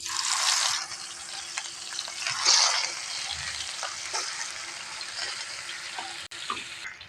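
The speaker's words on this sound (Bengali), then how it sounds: "তেলটা গরম হয়ে গেছে, এখন মাছগুলো ছেড়ে দেবো। ছেড়ে নিয়ে ভেজে নেব।" Bata fish frying in hot oil, a steady bright sizzle that bursts loudest at the start and again briefly midway, then settles into a continuous crackle.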